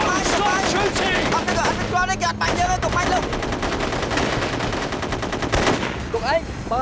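Rapid bursts of automatic gunfire fired at prisoners, loud and dense, with cracking volleys repeating throughout while people shout over the shooting.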